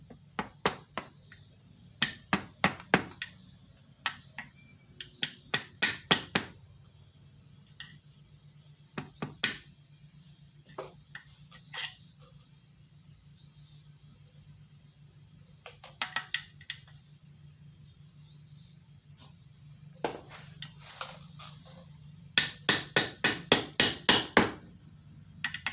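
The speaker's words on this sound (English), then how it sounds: "I'm going to use a plastic dead blow hammer." A plastic dead blow hammer strikes a part on a Husqvarna 385 chainsaw in sharp knocking bursts. Quick clusters of blows come up close, separated by quiet pauses, with a final rapid run of hits near the end.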